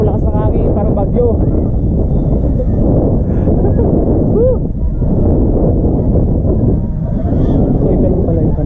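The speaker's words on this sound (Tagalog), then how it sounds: "Lakas ng hangin, parang bagyo." Strong wind roars steadily across the microphone with a loud, unbroken buffeting rumble, and faint voices sit underneath.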